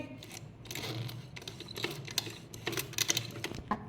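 A sewing machine stitches a lined salwar, running in short uneven bursts of rapid mechanical clatter close by, with pauses between runs and no talk.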